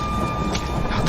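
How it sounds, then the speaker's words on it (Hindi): Steady rain pours through a dark, stormy night with a low continuous rumble of thunder beneath it, loud and close, with no voices. "बारिश का भरोसा नहीं है, कब तक रुकेगी।"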